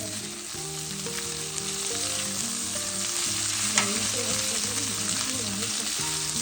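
Food sizzling and frying in a pan while being stirred and mixed, a steady close hiss with light scraping, music playing underneath and no speech.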